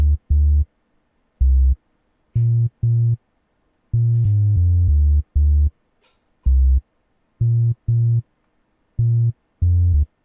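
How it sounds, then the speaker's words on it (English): A synth bass patch, the 106 bass from Trillion in Omnisphere, plays a chord progression of short, punchy notes in a syncopated rhythm with gaps of silence between, clean and alone. "I added 106 bass, my favorite bass from Trillion in Omnisphere, and this is what the progression looks like, and this is what it sounds like."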